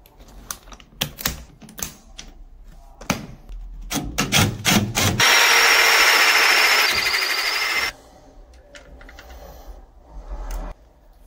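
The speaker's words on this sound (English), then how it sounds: "I'm going to get these measured, cut them down. I'll get the boxes drilled." Hand tools at work on electrical installation, cutting cable and drilling boxes: irregular knocks and scraping clatter, then a loud steady drill whine for a few seconds, followed by more intermittent clicks and handling sounds.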